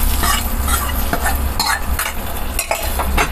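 Hot tempering for milagai killi sambar is poured into cooked dal and stirred, giving a loud continuous sizzle with scraping stirring sounds close by.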